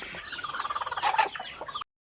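A laying hen clucks in quick repeated bursts, rising into a louder squawking cackle before stopping abruptly, fairly close and with no talking.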